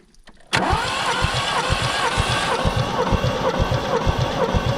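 A VAZ 2101 engine cranks on the starter during a compression test of the first cylinder, a steady loud rhythmic churning that begins abruptly after a brief quiet start and runs unbroken to the end.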